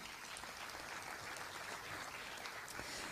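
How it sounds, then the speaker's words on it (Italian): Theatre audience applauding steadily and evenly at a Naples safety-themed concert show, a dense wash of clapping from a full house, moderately quiet and continuous with no talk over it. "Un applauso"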